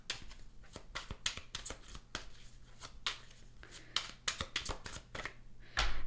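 Tarot cards are shuffled and drawn by hand close up, with quick riffling bursts and soft slaps of cards against each other, in an uneven rhythm at fairly low volume.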